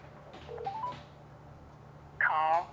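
Short electronic touch-tone beeps as a phone number is keyed in, a few separate tones followed by a louder, sustained multi-tone burst near the end.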